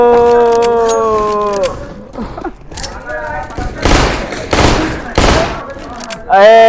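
Rapid bursts of gunfire in Counter-Strike: Global Offensive played with infinite ammo, loud and close, mixed with thuds and game tones.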